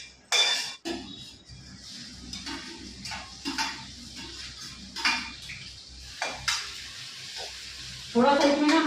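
Spice masala fries on low heat in a pan, giving a soft sizzle broken by repeated scrapes and clinks of a spoon stirring against the pan.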